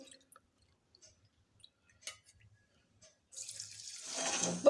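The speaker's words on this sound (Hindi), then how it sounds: "अब मैं इसमें 2 कटोरी पानी मिलाऊंगी।" Water is poured from a bowl into a pan of sugar for a syrup, starting after a few quiet seconds of faint kitchen clinks and building into a steady, close splashing pour that swells toward the end.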